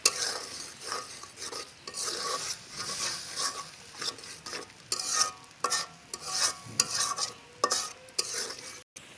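Ridge gourd sautés in a pan as a little water is added, with close scraping and clinking stirring strokes over a soft, uneven sizzle, and no one speaking.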